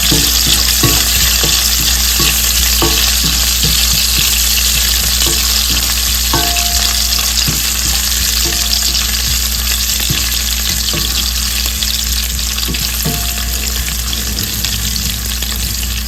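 Chopped ginger frying in hot oil for a bitter gourd and carrot pickle, a steady loud sizzle throughout with occasional scraping stirs, no voices.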